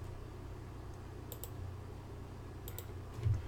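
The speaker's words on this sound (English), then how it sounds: "Your clicks right? are way too inaccurate." A computer mouse clicks a few times, faint and close, as two quick pairs of sharp clicks over a low steady hum. Nobody speaks.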